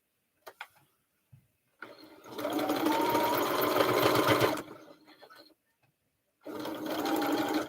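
A sewing machine stitching a quilt block runs in two loud bursts of rapid whirring stitching, separated by a pause, with a few small clicks and taps before it starts.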